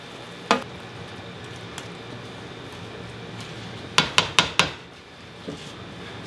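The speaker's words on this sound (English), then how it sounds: "Okay, I'm going to get them in the pan. Gonna mix this all up nice." A spoon stirs roasted eggplant caponata in a pan, giving a few scattered clanks at first and then a quick run of four or five sharp metallic knocks. A faint low sizzle sits underneath.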